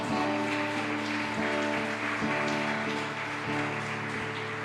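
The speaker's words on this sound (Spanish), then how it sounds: "Den un aplauso al Rey de Gloria." Church congregation applauding during a worship service, a steady wash of many hands clapping at an even level with a sustained tone underneath, continuing for several seconds without a break.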